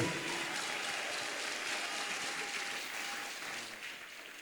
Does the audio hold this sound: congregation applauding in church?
yes